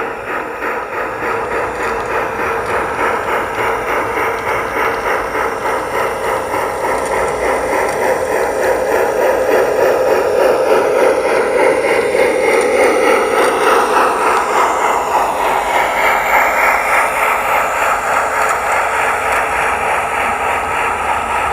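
A small HO-scale Rivarossi Union Pacific Big Boy 4014 model steam locomotive runs steadily on an 8-foot test track nearby, its continuous whirring hum and rhythmic clatter rising slightly as it passes, with no voices.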